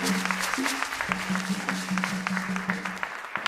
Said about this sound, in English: Ladies and gentlemen, a bigger round of applause for Mr. Neil Armstrong Motagbe.